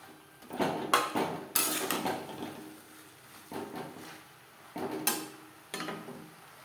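Okra is stirred with spices in a pan over a medium flame: a series of scraping, clattering strokes of the spatula against the pan come in irregular bursts with short pauses between.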